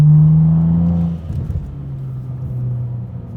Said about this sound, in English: Then you really want to burn some gas.